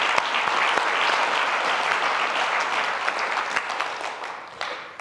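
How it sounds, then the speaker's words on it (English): A symposium audience applauds the event staff, a dense, steady wash of clapping that stays moderately loud and slowly tapers toward the end. "I'd like to have a round of applause for the staff that put this together"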